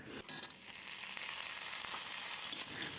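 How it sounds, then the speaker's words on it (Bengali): Onion, frozen peas and chopped ginger sizzle steadily in a pan of hot oil, a continuous crackling fry that swells after a brief quieter start, with faint stirring clinks. "পেঁয়াজ মটরশুঁটি আদা কুচি ভালো করে ভেজে নেওয়ার পর"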